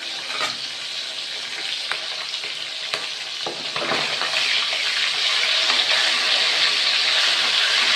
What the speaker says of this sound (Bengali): দেখো ভোলা মাছগুলো ভাজা বসিয়ে দিয়েছি।